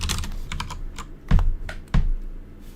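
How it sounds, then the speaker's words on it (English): Fast typing on a computer keyboard, a quick close run of light key clicks broken by two louder, heavier key strikes. "Are you appreciating how they're typing so smoothly?"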